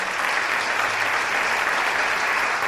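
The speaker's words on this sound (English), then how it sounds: "Okay, they deserve a huge amount of applause." Dense, continuous clapping fills a hall as the audience applauds pageant contestants on stage, loud and steady throughout.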